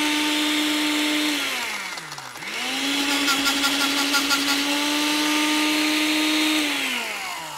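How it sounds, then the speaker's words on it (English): A weak, underpowered blender crushes ice: a steady, loud motor whine sags and nearly stalls partway through, then surges back up and runs on, alone without talk. "This is the worst blender ever. No power at all, but we're gonna crush some ice."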